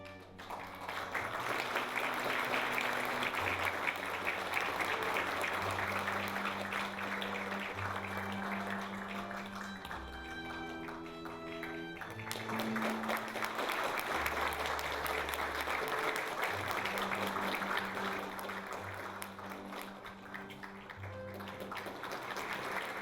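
An audience at a Korean university's honorary doctorate ceremony applauds at length, steady dense clapping over background music that swells, dips briefly midway and continues.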